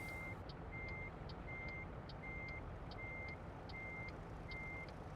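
A truck in American Truck Simulator reverses with a regular series of high electronic backup beeps, about a dozen evenly spaced pulses over a steady low engine rumble.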